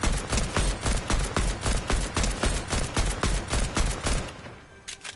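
Rapid, evenly spaced shots from an AK rifle in Fortnite, a loud close burst of steady automatic fire that keeps its pace and then trails off in the final moment.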